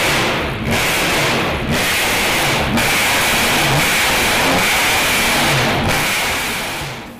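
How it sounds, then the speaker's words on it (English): Supercharged 3-litre Cosworth V6 in the Ford Supervan 3, a race-car chassis under a replica van shell, held at a loud steady roar with a few brief dips in pitch and level across about seven seconds. "in the low bay is a supercharged 3-litre V6 Cosworth engine"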